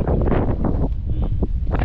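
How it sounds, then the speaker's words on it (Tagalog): Strong gusts buffet the microphone in rough, roaring bursts, a harsh low-heavy wind noise that swells and dips throughout. "Lakas ng hangin gilid."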